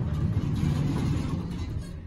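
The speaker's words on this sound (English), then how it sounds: "Listen to this motor." A Bay State traction elevator motor rated at a hundred feet per minute and 3,500 pounds runs with a steady, loud low hum and rumble, close by and continuous, with no talking.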